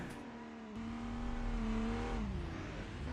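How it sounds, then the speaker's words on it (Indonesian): A drift car's engine revs hard and holds a high, steady note, then drops, loud and fairly close during a professional drift competition round. "Axel agak sedikit slide untuk bisa mengejar mobil dari Dwiki."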